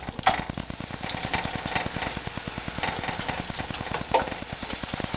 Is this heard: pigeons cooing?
no